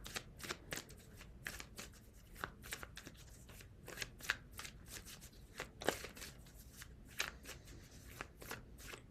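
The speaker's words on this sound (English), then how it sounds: "I want to pull another few cards or so from the Rider-Waite deck." Rider-Waite tarot cards being shuffled by hand in a quiet room, a run of crisp riffling bursts and soft slaps repeating close up with no talking.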